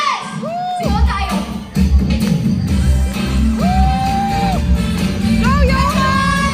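Loud crowd shouting and cheering at a BDO Fiesta 2024 event, a dense roar with high whoops and sustained yells close by, mixed with amplified voices.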